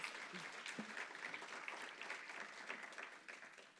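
Faint, steady audience applause at a university lecture, a soft continuous patter of many hands clapping from a distance, tapering slightly at the end.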